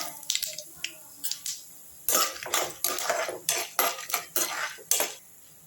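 Peanuts and chana dal roasting with popping mustard seeds in a pan for lemon rice, heard as a series of sharp, close metal scrapes and clinks from stirring, irregular at first, then a steadier run of strokes, with no talking.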